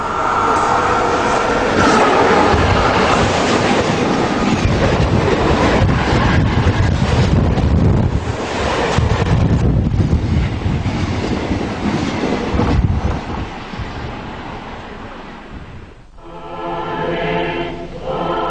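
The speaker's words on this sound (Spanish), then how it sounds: "me gusta ver el paso de los trenes" A Renfe train in Spain rumbles past close by, loud and sustained with rattling wheels and wind buffeting the microphone, then easing off near the end.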